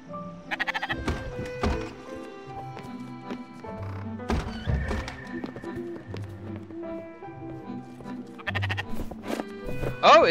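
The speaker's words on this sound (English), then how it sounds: "Do I seriously have a sheep on my boat?" A sheep bleating on a boat in the video game Spiritfarer, several wavering bleats repeated over soft background music with occasional thunks, clear and close.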